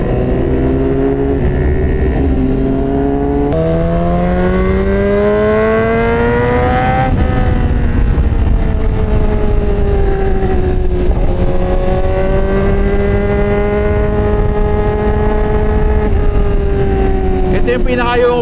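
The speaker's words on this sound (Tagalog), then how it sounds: "Masarap lang sa mata pag ang daming motor na magkakasabay no?" Several motorcycles, including a CBR1000RR, ride together downhill on Marilaque, engines droning loudly and rising and falling in pitch as they shift, continuous and close, with wind rush underneath.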